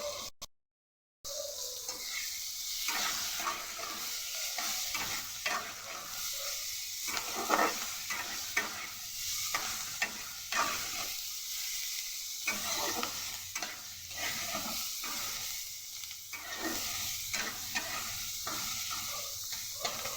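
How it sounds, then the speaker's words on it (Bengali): Chopped onion, capsicum and green chili frying in a pan, a steady close sizzle and hiss broken by frequent scraping strokes of stirring, with no voices. "ভালো করে ভেজে নেব।"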